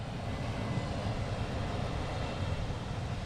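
An aircraft taxiing at London Luton Airport, its engines a steady, continuous low roar that holds at an even level throughout, close by and with no talk over it.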